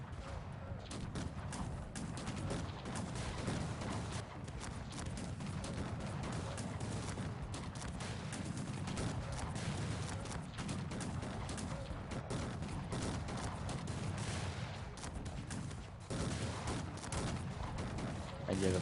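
Dense, continuous musket volleys rattle through a Cossacks 3 battle as large formations of musketeers exchange fire, a loud unbroken crackle of massed gunshots with game noise underneath.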